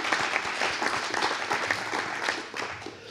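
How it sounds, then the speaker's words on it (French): A lecture audience applauds steadily for its full length, a dense wash of many hands clapping at moderate loudness without a break, no voices standing out above it. "On peut effectivement applaudir Daniel pour ça."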